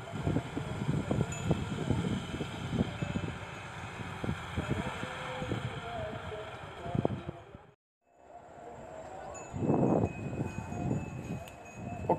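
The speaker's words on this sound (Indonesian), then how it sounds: "lokomotif kembali untuk mengambil rangkaian lori-lori tebu di jalur cabang lagi" A small locomotive shunts loaded sugarcane lorries on a narrow-gauge mill line, with a steady engine drone and dense clanking and rattling of the wagons over the rails. The sound briefly cuts out, then the rumble and clatter resume nearby.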